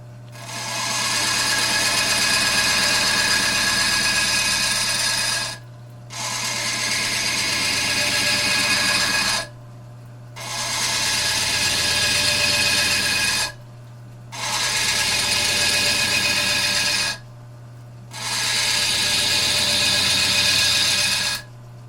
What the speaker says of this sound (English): I'm going to go to my diamond grinder here